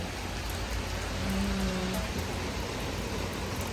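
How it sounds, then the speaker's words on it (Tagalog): Rain falls steadily outside the Myeongdong subway exit in Seoul, a close, even hiss of drops on pavement and surfaces, uninterrupted and with no one talking. "Papakita ko sa inyo kung gaano kalakas yung ulan."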